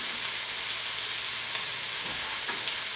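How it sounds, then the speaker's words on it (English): Meat pieces brown in a crowded frying pan for a crockpot dish, giving a steady, close, hissing sizzle that runs unbroken throughout with no talk. "you don't want to put too many pieces in the pan or it won't brown nicely"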